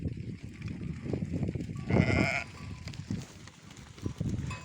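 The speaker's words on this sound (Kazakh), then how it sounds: "Қазақтың құлшы жүнді қойлары." Long-wooled Kazakh sheep bleat in a sandy-ground pen, several overlapping calls close by, one louder bleat standing out midway, with people talking over them.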